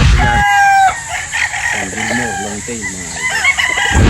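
A golden boy rooster at a farm in San Pablo crows loudly and close, one long call at the start, followed by clucking and other fowl calls, with someone talking over the birds.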